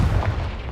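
A single booming blast from the Confringo explosion spell in Hogwarts Legacy, a short deep thump that quickly decays into a low rumble.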